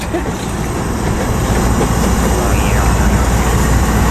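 A manifest freight train rolls past at Riverside Station in West Colton, pushed from the rear by a Tier 4 locomotive: a loud, close, continuous rumble and roar of engines and wheels that holds steady throughout.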